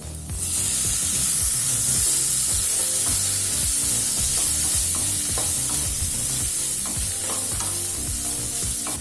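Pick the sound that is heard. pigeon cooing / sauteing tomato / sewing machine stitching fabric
sauteing tomato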